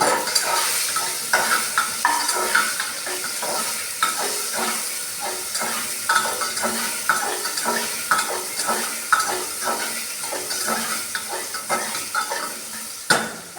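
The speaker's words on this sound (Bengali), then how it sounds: "আলুটা এখন একটু ভেজে নিচ্ছি" Potatoes frying in a pan, giving a continuous close sizzle with a regular rhythm of stirring scrapes and light utensil knocks throughout, with no talking.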